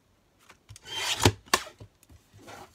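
Scissors or a blade cutting through leftover die-cut paper scraps for a Christmas tag, producing a few short rasping, rubbing strokes close up, with two stronger cuts in the middle and no talking.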